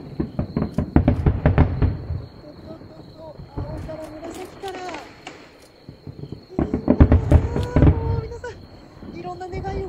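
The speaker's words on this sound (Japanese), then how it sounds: "高崎大花火大会、 フィナーレになるよ、" Fireworks at the Takasaki Fireworks Festival finale boom and crackle in dense bursts, with a lull in the middle before another heavy volley. Voices can be heard talking through it.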